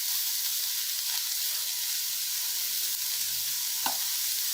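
Boiled chicken keema frying lightly in about a spoon of oil, a continuous close hiss and sizzle with faint stirring, steady throughout with no voices.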